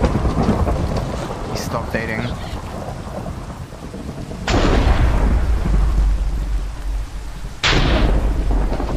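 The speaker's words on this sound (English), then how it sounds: "Summon a lightning bolt." Thunder from a summoned lightning bolt in Minecraft: two sharp, loud cracks, each breaking into a rumble, over steady rain, with a brief spoken line near the start.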